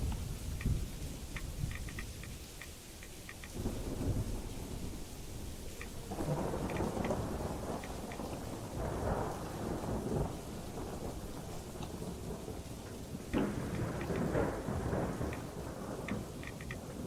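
A rad storm in the game Fallout London, with steady rain and deep rolling thunder swelling in several long waves, while faint ticking clicks sit on top.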